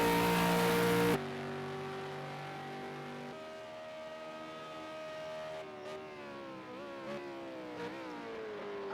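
V8 Supercar engine at Bathurst in a racing video game, a loud sustained high-revving drone with stepped gear changes, pitch climbing and dipping as the car nears 290 km/h, heard alone without voices.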